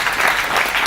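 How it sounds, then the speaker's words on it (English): Loud, dense round of applause from a forum audience for the speakers at an interfaith event, a steady wash of clapping hands with no voices over it. "Can we give a round of applause to our speakers again?"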